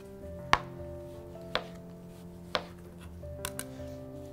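A knife cuts the tops and bottoms off oranges on a board, with three sharp evenly spaced thunks followed by a couple of lighter taps.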